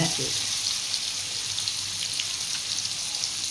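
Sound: fish frying in oil

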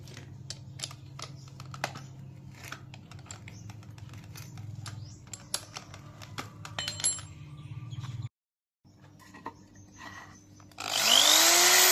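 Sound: power drill boring with a homemade bit

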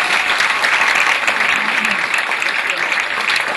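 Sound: applause for the debaters

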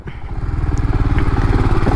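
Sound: motorcycle engine running

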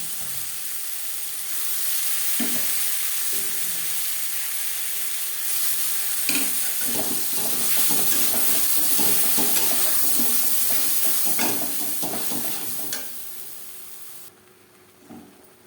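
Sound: frying and stirring boiled banana stem in a pan

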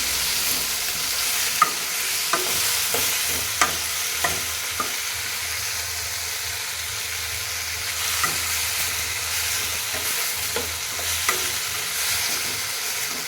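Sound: frying fenugreek leaves and mixed vegetables in a pan

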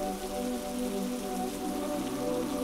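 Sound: rain falling (animated cartoon sound effect)

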